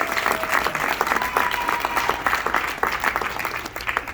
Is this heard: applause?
yes